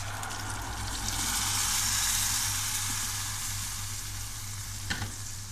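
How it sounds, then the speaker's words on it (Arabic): Tomato juice poured into frying onions with dried coriander, a loud steady sizzle and hiss that swells, then settles to a continuous fry with a brief clatter near the end. "بعد كده هننزل عصير الطماطم"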